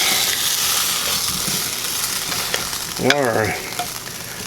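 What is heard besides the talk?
stirring Guinness glazed carrots in a pan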